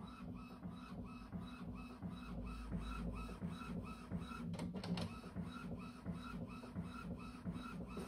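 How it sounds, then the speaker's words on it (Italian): An Epson WorkForce Pro WF-3820 inkjet printer running a nozzle check, with a steady rhythmic mechanical shuttling of the print head and feed mechanism repeating throughout at moderate level, no talk. "controllo degli ugelli della testina, e noi lo possiamo fare anche subito"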